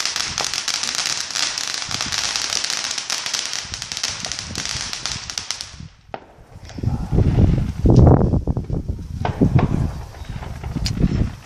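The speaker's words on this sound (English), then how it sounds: "So that family over there is doing fireworks." Fourth of July fireworks set off by a neighboring family: a dense crackling stream of small bursts, then a series of louder booming pops, moderately close.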